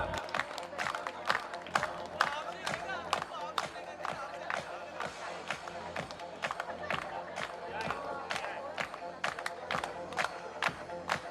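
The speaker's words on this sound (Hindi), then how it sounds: "तालियां बजनी चाहिए, तालियां तो बजाओ आप।" Audience at a mass wedding ceremony in Pushkar claps in steady, rapid strokes through the whole stretch, with a crowd murmur and a voice speaking over it.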